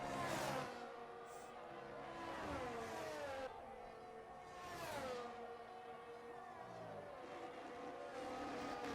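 McLaren race car number 111 lapping in a racing video game at Abu Dhabi, its engine note rising and falling through gear changes, with a few sharp whooshing surges as it pulls through corners and straights.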